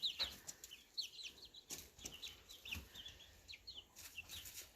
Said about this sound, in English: I think Fiddle might be a rooster